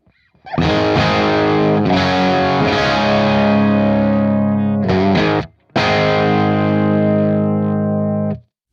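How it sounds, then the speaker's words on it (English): Heavily distorted electric guitar rings out in sustained chords, a few strums with a short gap before a final long chord fades. "this pedal sounds really good going straight in with a flat EQ"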